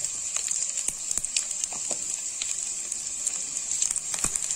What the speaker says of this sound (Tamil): ஒரு ஸ்பூன் எண்ணெய் ஊத்தி வெண்டைக்காயை போட்டு நல்லா வதக்க போறேன்